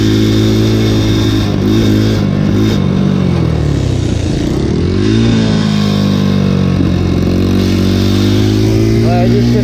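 Motorcycle ridden on a rainy road, its engine droning steadily and dropping in pitch as it is shifted down into second gear on a descent, with constant loud wind rush throughout.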